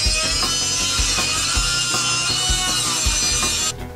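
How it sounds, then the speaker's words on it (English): Angle grinder cutting off the end of a metal rivet on a sled's metal support, a loud, continuous high whine with rhythmic grinding pulses, close up, easing off just before the end. "I grind off the end of the rivet and then pry off this end."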